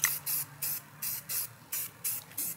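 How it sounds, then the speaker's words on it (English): Rust-Oleum semi-gloss white spray paint hisses from an aerosol can in seven short, even bursts while coating Yamaha Banshee parts, each spurt about a quarter second long with brief pauses between. "I'm coating these in a semi-gloss white from Rust-Oleum."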